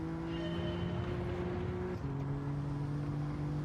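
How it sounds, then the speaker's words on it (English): Car engine in the racing game Gran Turismo 7, a steady sustained drone with a slight pitch step midway, loud and continuous with no talking. "It's a lot of money to listen to that engine note when you can get a C63 for less."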